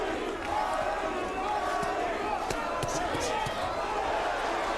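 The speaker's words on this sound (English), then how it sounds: "Crowd trying to pick Arturo up." Arena crowd at a boxing match roaring and cheering for Arturo Gatti, a continuous loud wall of voices with scattered sharp thumps and shouts, and commentary talking over it.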